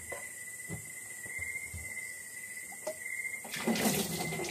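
Water from a kitchen tap runs steadily over hands being washed in a sink before grilling fish, a close, continuous splashing flow that grows louder and fuller near the end.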